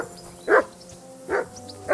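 A dog barks in Kingdom Come: Deliverance, three sharp woofs about three-quarters of a second apart, each standing alone over quiet ambient game sound with no talking.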